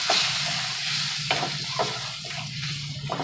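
A lemon juice mixture fries briefly in a hot pan for lemon rice, a steady close sizzle with several scraping stirs of a spoon at uneven intervals.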